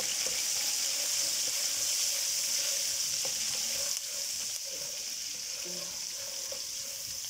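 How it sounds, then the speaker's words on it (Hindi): Onions frying with cumin seeds in a pan while jeera rice is made, a steady bright sizzle that dips slightly midway, with faint stirring scrapes and occasional small clinks, close and with no voices. "थोड़ा सा ज़ीरे को भूनने के बाद प्याज शामिल कर देंगे।"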